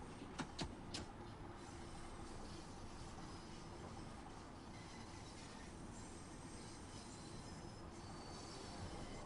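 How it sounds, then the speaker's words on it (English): A London Underground Bakerloo line train in Train Sim World 2 rumbles steadily at low volume, with a few sharp metallic clicks at the start and then a continuous rolling wheel-and-motor drone. "This is a Bakerloo line train to Elephant and Castle."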